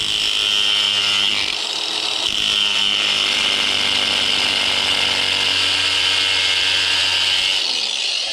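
A power grinder cuts through material for an Arrma Kraton 8S RC car wing mount build, a loud, sustained high-pitched whine that holds steady for the whole stretch with no voices.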